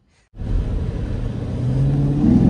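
A Nissan Patrol V8 SUV engine starts up during a ride, a steady low rumble that swells and revs higher over a couple of seconds, close and fairly loud with no talking.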